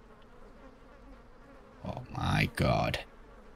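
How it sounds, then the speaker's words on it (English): The Angry Bees toy in World of Warcraft: The War Within lets out a loud swarm of buzzing in two swelling bursts after a quiet start, with a voice exclaiming briefly over it. "Now, angry bees."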